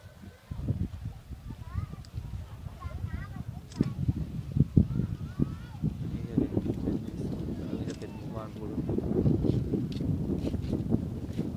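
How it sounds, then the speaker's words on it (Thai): Strong, cold wind buffets the microphone at a mountain viewpoint at Phu Thap Boek in Thailand, a steady low rumble with gusty bursts throughout, while someone talks over it. "ลมแรงมากหนาวมากนะครับ"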